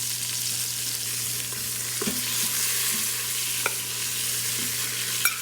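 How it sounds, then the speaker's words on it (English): Chicken skins fry and caramelize in an Instant Pot, giving a steady close hiss of sizzling oil with a few light taps and scrapes of a utensil stirring. "Now we're starting to get some caramelization on those skins."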